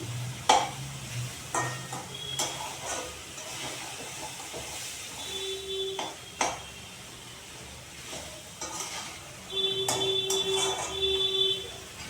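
Water poured into a pan of fried spice paste sets off a hissing, steaming sizzle, broken by sharp clanks of a utensil and a louder surge of bubbling toward the end.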